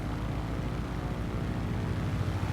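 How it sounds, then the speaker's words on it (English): Airplanes in a flight video game drone steadily overhead with a dense, continuous engine roar that stays level throughout, with no talking. "All these planes flying around making all the noise."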